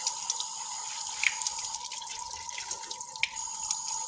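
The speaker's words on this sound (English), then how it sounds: "Now I take the water over here, and you just gently rinse everything." Water runs steadily as sprouts in a tray are gently rinsed, a constant thin trickle with scattered drips and small splashes, quiet and close.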